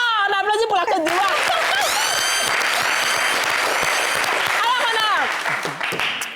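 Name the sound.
applause for Côte d'Ivoire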